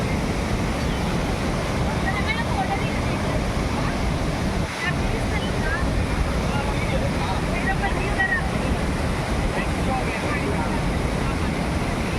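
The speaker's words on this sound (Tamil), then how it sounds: "இந்த வாட்டர் ஃபால்ஸ் வந்து ரொம்ப ஃபோர்ஸ்ஃபுல்லாக இருக்கிறதுனால ரொம்ப க்ளோஸாக போகிறதுக்குலாம் அங்கே சான்ஸ் இல்லை" Athirapalli Falls in Kerala pours down with great force in a loud, unbroken roar of rushing water, with faint voices beneath it.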